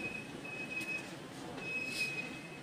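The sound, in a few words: Express train running on the rails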